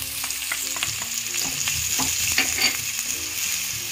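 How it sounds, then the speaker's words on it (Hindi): Onion and carrot fry with cumin over a high flame, a loud steady sizzle with busy, rhythmic stirring scrapes close by. "जीरा तड़कने पर हम डालेंगे इसमें प्याज, सारा हाई फ्लेम पे डालना है सारा सामान, इसके साथ हम डालेंगे गाजर"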